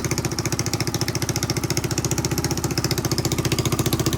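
A Honda XR200 single-cylinder motorcycle engine, freshly rebuilt top end, runs at a steady idle close by, its rapid even firing pulses thumping without a break and no other sound.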